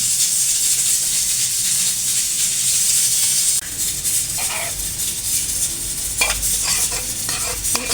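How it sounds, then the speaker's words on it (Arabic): Onion and pepper fry in a pan with a steady close hiss, while scraping stirring strokes chime in during the second half. "راني نقلي فيه البصله، نقلي البصله"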